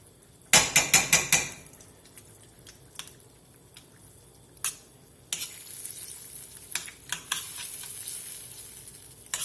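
Refried beans dropped into a pan of browned beef and stirred, opening with a quick run of loud metallic scrapes and knocks, then a steady close sizzle broken by occasional sharp utensil clacks.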